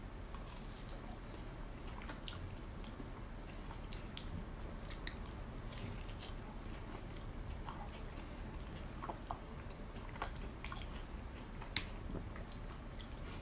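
Someone eats ripe Monthong durian up close, soft wet chewing and squishy biting sounds repeating irregularly at low volume, with no talking.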